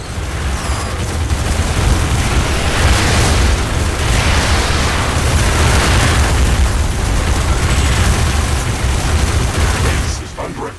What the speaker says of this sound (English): An energy connector has been destroyed. Tower destroyed.